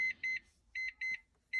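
A rebuilt airbag diagnostic module sounds a series of short, clear electronic warning beeps, sharp and evenly pitched, some in quick pairs separated by brief silences.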